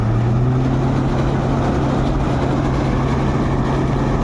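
A tractor engine runs at a steady low idle close by during a sunflower harvest on a farm, with a continuous deep drone and no voices.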